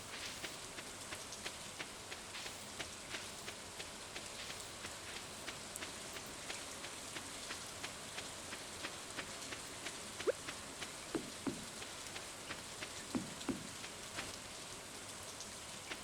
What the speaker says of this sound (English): I love rainy days in Stardew Valley. It's so soothing. Just listen to the sound of the rain.